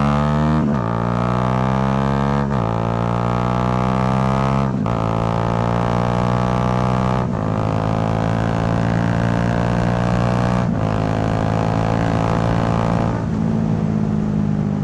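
A Bajaj Dominar 400 motorcycle with an SC Project exhaust revs hard at high RPM, loud and close, climbing through repeated pitch sweeps with brief breaks as it shifts, roaring steadily for the whole stretch.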